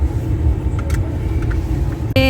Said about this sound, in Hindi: गाड़ी धीरे धीरे पड़ रही है